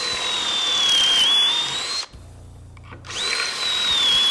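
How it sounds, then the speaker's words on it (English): A power drill bores pocket holes into wood, two loud sustained whining runs separated by a short pause with faint clicking, close up with no talking. "Before I show you this clamp, we need to drill some pocket holes."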